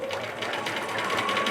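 A sewing machine stitching fabric, a close rapid mechanical chatter of the needle running steadily without pause.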